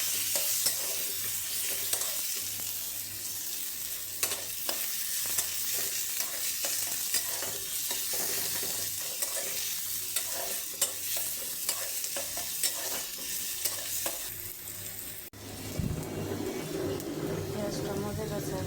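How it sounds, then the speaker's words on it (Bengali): Onion frying in hot oil gives a steady sizzle through most of the stretch, with occasional stirring scrapes, a change in texture near the end, and faint bird coos in the background. "তেলের ভিতরে আমি পেঁয়াজটা দিয়ে দিলাম।"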